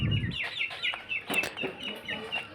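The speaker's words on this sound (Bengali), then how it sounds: "আপনারা দেখতেছেন আমাদের এখানে কিছু টাইগার মুরগি" Tiger chickens cluck softly and repeatedly nearby on a farm, a few birds calling in short overlapping bursts.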